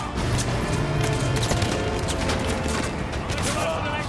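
Explosions and battle noise fill a Call of Duty Modern Warfare 2 Remastered firefight, a dense continuous roar of blasts and crashing with sharper bursts breaking through, loud and close throughout.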